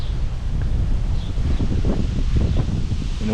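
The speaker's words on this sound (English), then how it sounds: "And the wind's kicking up again." Wind blows outdoors, buffeting the microphone with a constant low rumble and soft rustling gusts, loud and close throughout.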